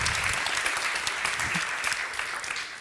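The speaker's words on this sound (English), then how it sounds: "a big hand of applause for Milla." Audience applause at a NEXT 2018 conference talk, a steady wash of many hands clapping at a moderate distance, continuing throughout.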